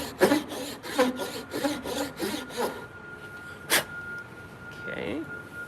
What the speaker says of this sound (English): I'm staying well clear of the line just because I don't trust my sawing